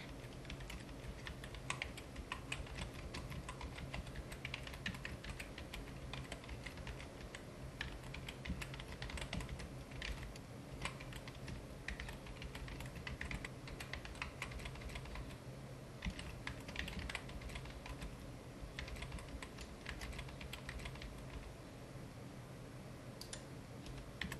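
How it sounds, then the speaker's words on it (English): Steady, continuous typing on a computer keyboard, with dense, close key clicks at an even pace throughout and no talking. "So let's type something like"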